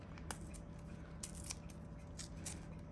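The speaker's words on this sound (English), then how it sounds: "So bear with me while I cut all of this." Scissors cut kinesiology tape in several quiet, crisp snips spaced across a few seconds over a low background hum.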